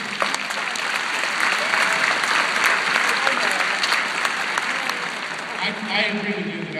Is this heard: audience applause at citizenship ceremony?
yes